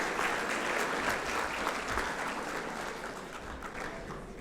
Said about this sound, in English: Please join me in applauding our two finalists